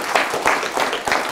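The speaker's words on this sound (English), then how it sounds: "But, I mean, a big round of applause for Scott." An audience gives a round of applause at a talk on herbarium specimen work, bursts of clapping rising and falling in quick waves over a short stretch.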